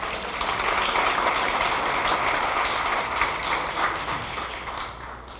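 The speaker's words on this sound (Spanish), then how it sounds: "Vamos a darle un fuerte aplauso, por favor," A crowd at a youth and family forum in Querétaro gives a loud round of applause, many hands clapping in a steady, continuous wash that holds throughout and tapers slightly at the end.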